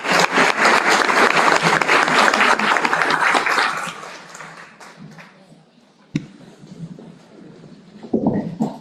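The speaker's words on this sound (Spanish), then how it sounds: "cerramos con un fuerte aplauso por estas preguntas" Loud audience applause at the close of a university conference on technical literacy, dense clapping filling the first four seconds and then thinning out and fading, with a few scattered claps and a brief burst of voices near the end.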